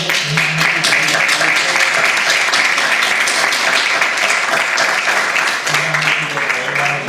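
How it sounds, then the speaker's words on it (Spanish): Audience applause after a poetry reading, a dense, loud, continuous wash of many hands clapping that lasts the whole stretch, with a murmur of voices faintly underneath. "Yo creo que un aplauso."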